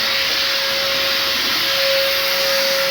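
A pet blower roars steadily while drying freshly bathed dogs, giving a constant loud airy hiss with a fixed whine that runs unbroken throughout, with no talking.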